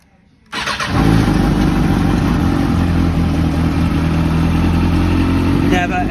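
A 2015 Kawasaki ZX636R sport bike with an Akrapovic exhaust cranks and fires up after a brief quiet moment, then settles into a loud, steady idle close by.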